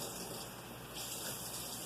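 Water pours from a cup onto uncooked rice for baked chicken and rice, a quiet continuous gushing stream with no break.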